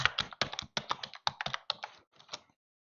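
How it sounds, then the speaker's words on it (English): Someone types a password on a computer keyboard in a quiet setting: a rapid run of close, crisp keystrokes in uneven bursts, trailing off after about two and a half seconds. "Now we're going to type in the password."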